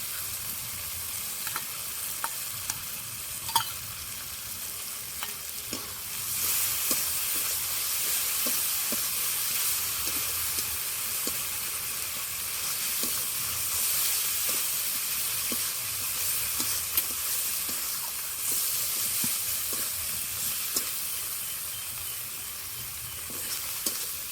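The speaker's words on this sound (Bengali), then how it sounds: "এবার দিয়ে দেবো পালং শাক বাটা আর ধনে পাতা বাটা" Ground spinach and coriander paste frying in spiced oil in a pan, a loud continuous sizzle and hiss with scattered stirring clicks, intensifying after the paste goes in.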